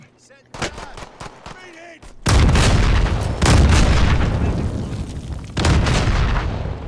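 A C4 charge detonates in a first-person shooter game: a few sharp shots, then a loud, close blast with a long rumbling tail and another heavy boom near the end.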